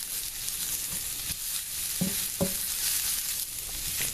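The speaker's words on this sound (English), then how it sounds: "she's going to stir fry it. Just a quick saute." Sliced zucchini sizzling in olive oil during a quick stir fry, a constant bright hiss with a few sharp scrapes of a spatula against the pan, close and without any voices.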